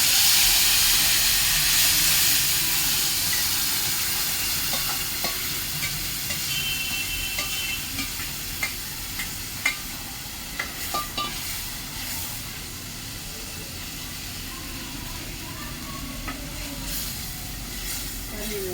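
Tomato-onion gravy poured into hot spiced tempering for paneer bhaji sizzles loudly at first, then settles into a steady hiss with scattered pops and faint background voices.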